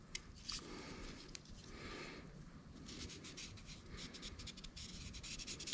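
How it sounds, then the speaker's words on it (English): A magic marker scratches and squeaks across material while fabricating a rear brake conversion for a Honda ATC250R three-wheeler, in quiet close repeated strokes that grow more rapid toward the end, with no speech. "anywhere that is hanging out, we can mark it with our magic marker"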